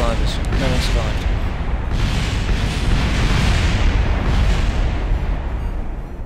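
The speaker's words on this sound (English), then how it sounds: "Those explosions are a bit loud." Heavy, continuous explosion rumble from the video game Kerbal Space Program, loud and booming throughout with crackling bursts layered over a deep low roar.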